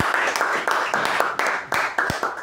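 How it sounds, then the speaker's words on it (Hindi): Congregation applauding loudly during a Hindi-language Sunday church sermon, with bursts of close, sharp claps that surge and break in uneven waves, heard alone without talk. "खुदा के कलाम को जोरदार तालियों के साथ हम वेलकम करेंगे।"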